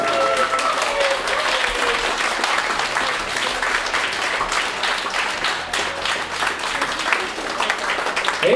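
Audience applauding the finalists at a figure-fan event, a dense sustained wash of clapping from a crowd, loud and continuous from start to finish.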